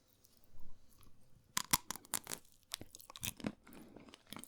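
Frozen Jaffa Cake biscuits with dark chocolate crunched up close, with sharp repeated bites and chewing crackles in an irregular rhythm over a quiet background, no talking.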